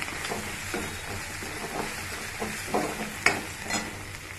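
Tomato curry with ginger garlic paste being stirred in a hot pan, a steady sizzle with rhythmic scraping strokes of the spoon and a sharper clink near the end, close up and with no talk.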